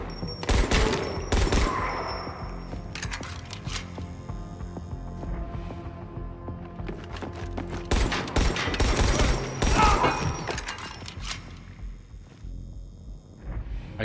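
Repeated bursts of gunfire in the Dying Light: The Beast video game, several loud sharp volleys of shots with rapid clusters spread across the stretch, over a dense game soundscape with faint creature roars.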